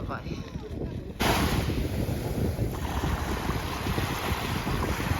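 Sea waves wash onto a shell-rock shore at Olenevka, Crimea, as a broad, loud rushing surge that swells suddenly and holds steady, mixed with heavy wind buffeting the microphone.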